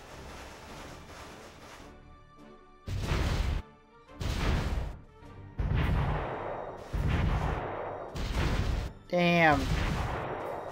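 Naval artillery bombardment in a WWII strategy game, six heavy booming impacts spaced about a second and a half apart, each with a crashing rumbling tail over low background noise, loud and close, with a brief spoken word among them.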